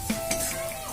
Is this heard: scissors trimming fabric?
no